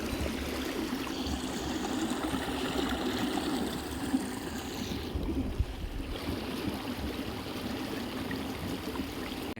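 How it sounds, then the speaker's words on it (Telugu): A river flows right beside the Ganti Varala Nagamma temple, giving a steady, close, full rush of moving water that holds even throughout with no voices over it. "పక్కనే పారుతున్న నది సోను మీరే వినండి"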